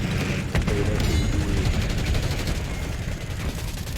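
Rapid bursts of hand cannon fire crack out in a Call of Duty Black Ops 6 match, with several sharp shots followed by a dense, continuous spray of gunfire and game noise.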